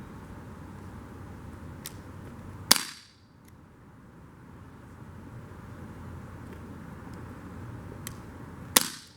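An Umarex Glock 19 CO2 BB pistol is fired at targets outdoors, two sharp cracks spaced several seconds apart over faint background hiss, with a couple of lighter ticks nearby.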